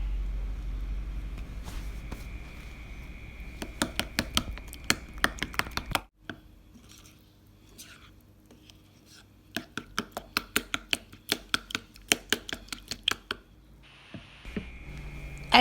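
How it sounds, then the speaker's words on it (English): Eggs beaten with minced pork and white pepper for a Thai omelette, heard as rapid runs of sharp clicking whisk or fork strikes against a bowl in bursts, with a quieter pause midway and no talk. "Add the minced pork and beat all together."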